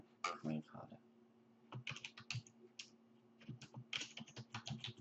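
Computer keyboard typing a new folder name: quick, irregular keystroke clicks in bursts, close and fairly soft, with a faint steady hum underneath and no speech.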